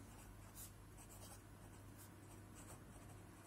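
Quiet scratchy strokes of an extra-fine steel-nib fountain pen moving across paper, soft and close, with a low steady hum in the background.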